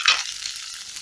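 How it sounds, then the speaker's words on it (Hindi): Curry leaves, mustard seeds, grated ginger and garlic sizzling as they roast in a pan over low to medium flame for sambar, a brief close hiss that sets in at once and holds steady. "अब इसको हम रोस्ट करेंगे लो टू मीडियम फ्लेम पे"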